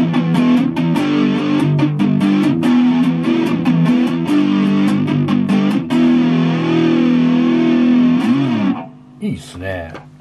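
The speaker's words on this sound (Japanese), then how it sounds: "歪みでフランジャーとか使ってみましょうか。" An electric guitar runs through a vintage Showa-era analog multi-effects unit set to distortion with flanger, playing sustained, sweeping, heavily driven chords loudly, then cuts off near the end as a voice begins.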